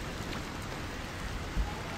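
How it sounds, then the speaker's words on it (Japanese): Steady rain falling in Sky: Children of the Light, a soft continuous patter of drops on surfaces with no voices. "雨天。"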